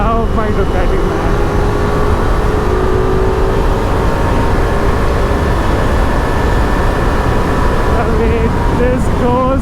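A Ducati motorcycle engine, either a Multistrada V4 Pikes Peak or a Hypermotard 950 RVE, is heard while riding on a cool, foggy morning. A loud, continuous close drone holds steady with wind rush and shifting engine tones, and there are hints of talk.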